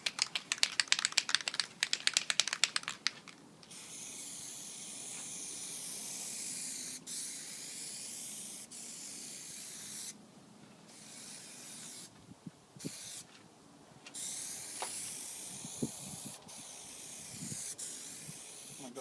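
An aerosol can sprays Plasti Dip onto SRT-4 stripes in a long, steady hiss broken by a few brief pauses, after a quick run of rapid clicking at the start.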